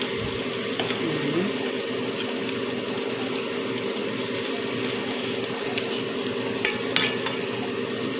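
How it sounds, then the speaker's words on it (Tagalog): Sweet and sour escabeche fish simmers in a pan, giving a continuous close hiss and low bubbling with a few faint knocks near the end. "Then, hayaan lang natin siyang kumulo ng gusto guys"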